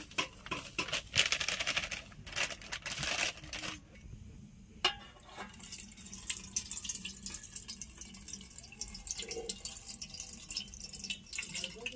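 Semolina being rinsed in water by hand in a home kitchen, with close splashing, dripping and clinking of grains and water against a bowl, bursts of activity giving way to quieter intermittent drips.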